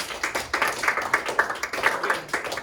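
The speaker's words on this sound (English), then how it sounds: "So give him a round of applause." A small crowd at a high school wrestling awards night gives a wrestler a round of applause, loose uneven clapping from a modest group, close and moderately loud, with audible individual claps pulsing throughout.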